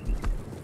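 Horse hooves clip-clopping in a multiplayer video game, a few quick hoofbeats close up with no talking over them.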